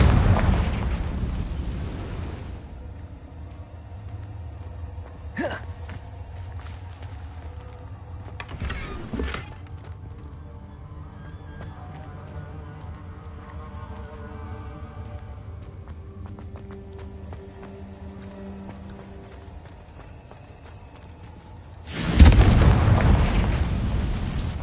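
Confringo fire spells in the Hogwarts video game go off as loud booming blasts, a heavy burst at the start and another near the end, with sharper hits in between over a steady low rumble of game ambience.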